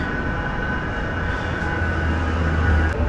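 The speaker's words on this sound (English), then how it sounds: "Tram's going down underneath." A Manchester tram passes beneath the bridge at Piccadilly Station, a steady rumbling roll with a low drone and a sustained tonal hum, growing slightly louder toward the end.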